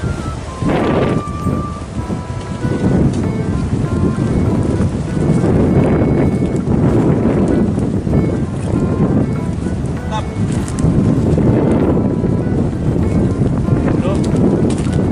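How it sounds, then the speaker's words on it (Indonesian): Strong wind roars steadily across a fishing pond at a Jakarta fish farm, buffeting the microphone with a loud, continuous rumble that swells and eases throughout. "Lagi angin gede bro."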